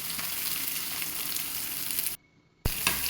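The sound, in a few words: onion and spices sautéing in a pan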